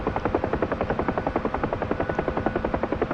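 UH-1H Huey helicopter in DCS World flight simulation, rotor blades thumping in a fast, even rhythmic beat over a steady engine drone, close and continuous, without voices.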